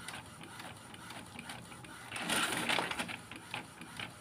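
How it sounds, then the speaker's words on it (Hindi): An Epson printer feeds and prints pages of a PDF, a faint, rhythmic mechanical whirring and clicking that swells into a louder grinding pass partway through. "अपने आप सारा का सारा प्रिंट वापस बाहर निकल जाएगा"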